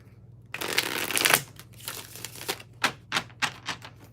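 A deck of cards is shuffled for a reading: a quick riffle burst, then a run of soft, separate taps and slaps as the cards are cut and squared.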